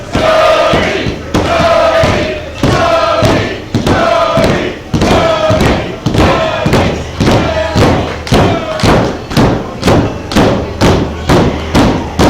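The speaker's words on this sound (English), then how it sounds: "Listen to this crowd" Wrestling show crowd roaring and chanting in a loud, steady rhythm, with repeated heavy thumps of stomping or clapping landing on each beat.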